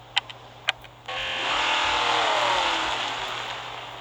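A few faint clicks, then the engine of a 1963 Jaguar E-Type Lightweight in Real Racing 3 starts and revs up in a rising, steady drone that gradually eases off, with no voices.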